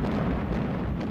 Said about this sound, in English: The Tirpitz is seen firing her 15-inch guns.